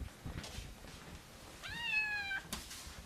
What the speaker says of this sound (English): What a cute little kitten.